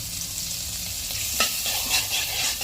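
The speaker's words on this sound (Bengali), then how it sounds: "বাটারটা মেল্ট হতে দেবো।" Butter melts and sizzles in a kadai over lowered heat, a soft continuous frying hiss with a few light stirring scrapes and ticks near the end.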